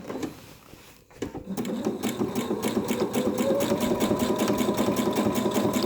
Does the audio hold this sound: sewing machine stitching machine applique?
yes